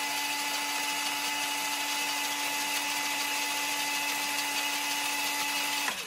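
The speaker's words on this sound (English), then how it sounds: "full speed, press the throttle button." WPL C64-1 Toyota 4x4 RC truck's electric motor held at full throttle, a steady high-pitched whine with a constant tone, loud and unbroken for about six seconds before a brief dip at the end.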